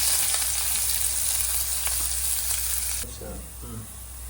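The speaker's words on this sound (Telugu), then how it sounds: "ఆయిల్ బాయిల్ అయినాక ఆనియన్స్ వేసుకోవాలి." Onions frying in hot oil for a Madurai-style chicken dish, a loud, continuous close sizzle that drops somewhat in level near the end, with a few faint clinks.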